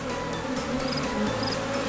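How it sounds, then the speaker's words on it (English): A steady, close buzz comes from thousands of agitated honeybees flying around an open hive, dense and unbroken, with no voices over it. "There's thousands of bees flying around right now"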